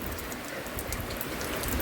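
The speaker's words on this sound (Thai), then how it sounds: "มันนี่ฝนตกพี่น้อง" Morning rain falls steadily in a constant broadband hiss, with no pauses or voices, at a moderate level throughout.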